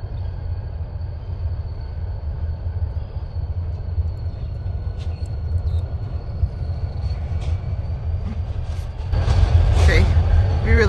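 A train rolls across a bridge over the Mississippi River in St. Paul, Minnesota, a steady low rumble under wind that swells louder near the end as the cars pass close.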